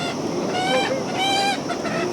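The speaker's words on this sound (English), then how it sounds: "This chicken's still going, Dennis." A chicken squawks in loud, harsh, honking bursts, two main cries in quick succession, close by, during butchering in Nepal.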